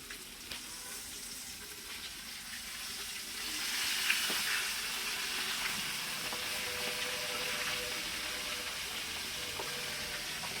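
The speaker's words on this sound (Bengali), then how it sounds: "আমরা এখন মাছটা ভাজি করতেছি।" Fish sizzles steadily in a hot pan of oil, a dense close crackling hiss that swells briefly partway through and then settles, with no talking.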